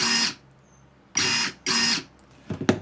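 A Kebtek 25V cordless pruner fires off short, loud motor whirs in quick succession, three brisk bursts with brief pauses, then a faint rustle and clack at the end.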